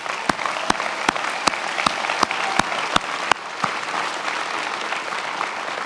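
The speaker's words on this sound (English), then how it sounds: "Let's give the folks who put this together a round of applause." A crowd at a university spring graduation ceremony applauds steadily for almost six seconds, dense and moderately loud, with a few sharp louder claps standing out in the first half.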